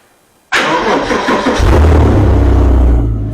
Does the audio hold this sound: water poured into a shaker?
no